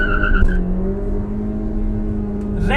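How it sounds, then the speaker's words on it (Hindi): A Maruti Suzuki S-Cross BS6 petrol engine revs toward 6500 RPM, holding a steady, close engine drone that climbs briefly and then sustains, with a short clatter at the start and a noise at the end. "now raving the engine"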